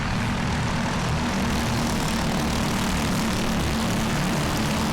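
A dense, continuous engine roar fills the whole stretch, steady and loud with no talk, fitting a pack of racing karts with sealed Briggs 206 engines.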